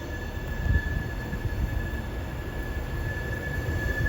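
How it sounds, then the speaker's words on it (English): A Class 390 Pendolino rumbles through Carlisle station, a loud low rolling roar with a thin sustained wheel squeal above it, steady for several seconds. "The next Pendolino, I've not got a number for this one yet."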